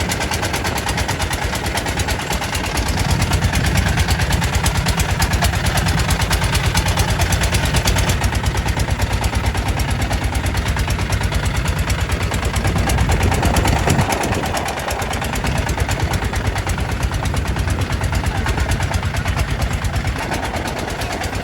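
A tourist boat's engine runs steadily as the vessel slowly approaches the Marunda Beach pier in Marunda harbour, a continuous low, loud rumble that holds for the whole stretch, with rhythmic chugging and no voices over it.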